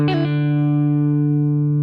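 An electric guitar in standard tuning plays a riff, with a quick run of picked and pulled-off notes over a ringing open string that then sustains alone.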